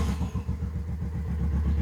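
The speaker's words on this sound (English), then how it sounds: "now we're going to go ahead and start it up and check it" A 2020 John Deere Gator XUV 590M utility vehicle engine starting up after a fuel filter change, settling into a steady, close, low, chugging pulse with an even rhythm.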